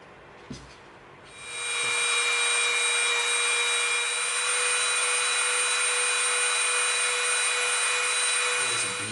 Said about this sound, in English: we'll come in with our Dremel and we'll get that glue residue off right there